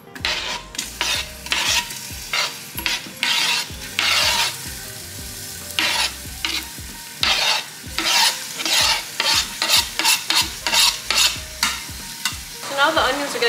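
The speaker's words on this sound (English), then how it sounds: "time to throw these onions in and get them sizzling." Onions hiss and crackle in a hot frying pan for Punjabi lamb biryani, with a steady close sizzle broken by repeated rhythmic scraping and stirring strokes of a utensil against the pan.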